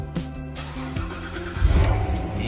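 A C7 Corvette Stingray cold-starts, the engine catching and then swelling into a loud, rising rev that settles into a strong idle, heard close and alone.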